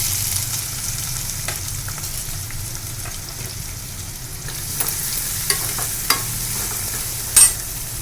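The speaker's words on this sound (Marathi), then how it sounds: "आता कांदा टाकते" Chopped onion drops into hot oil already holding cumin seeds and crushed garlic, giving a steady close sizzle with a few sharp utensil taps and stirs toward the end.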